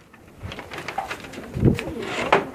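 A pigeon held in someone's hand coos softly in a few short, low throaty bursts, with faint rustling and background noise between the calls.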